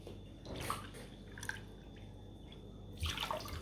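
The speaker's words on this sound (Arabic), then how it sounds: "نديرو كاس ونص تاع السكر وثلاثة كيسان تاع الماء" Water is poured cup by cup for a sugar syrup, giving soft, faint splashing pours in short separate bursts, with quiet drips in between and no talking.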